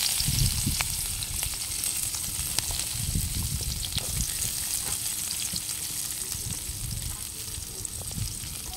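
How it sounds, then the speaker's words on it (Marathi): Onion crackles in hot oil, a continuous dense sizzle close by with low bubbling swells and scattered light clicks from stirring. "तर हिथं तेल तापले, त्याच्यात आपल्याला टाकायचा कांदा."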